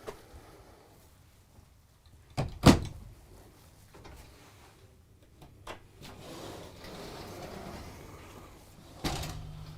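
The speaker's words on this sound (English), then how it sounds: "As I'm closing these doors" A sharp wooden knock of cabinet doors shutting inside a 2022 Newmar Superstar 4061 motorhome, followed by quieter clicks and rustling, with a second thud near the end.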